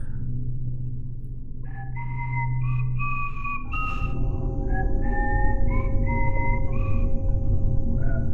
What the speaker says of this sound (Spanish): Escuchamos a alguien silbando.